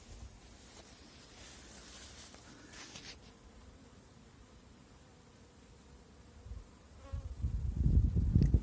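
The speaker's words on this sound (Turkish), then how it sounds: "Ana arının sesi." A dense, steady buzzing of many honeybees close by inside a hive, with the queen bee's sound, swelling into a louder, deeper hum near the end.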